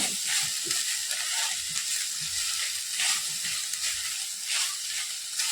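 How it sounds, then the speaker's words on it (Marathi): Freshly grated wet coconut is sautéed in a pan over low to medium flame for modak filling, giving a close, continuous soft sizzle with intermittent scraping stirs. "एक मिनिटभर आपलं खोबरं छान परतून घ्यायचं"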